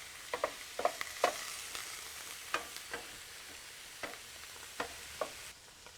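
Ground chuck for Texas chili sizzles faintly in a pan, with a scatter of sharp scraping clicks from stirring at irregular intervals over a soft, steady frying hiss; no voices.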